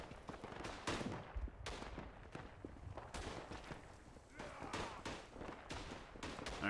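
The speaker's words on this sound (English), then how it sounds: "Who is shooting at me?" Rifle and machine-gun fire crackles in the World War I shooter Tannenburg, a steady stream of sharp distant and mid-range shots in irregular bursts, with occasional brief speech.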